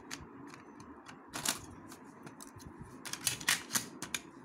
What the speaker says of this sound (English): And the last things we have, eraser and a sharpener. So I'm gonna put them back inside.